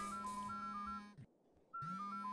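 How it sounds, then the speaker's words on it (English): Electronic ringtone of a cell phone in the PC video game vridniX, with a looping melodic beeping phrase over a steady tone that cuts out briefly and then resumes, fairly loud and with no voices. "I really like his cell phone ringtone"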